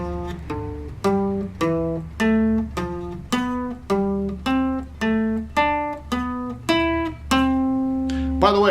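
A scale exercise played in diatonic fourths on a plucked, clearly pitched instrument: about a dozen distinct notes stepping upward in a steady rhythm, each ringing briefly, with a longer final note, close and with no talking.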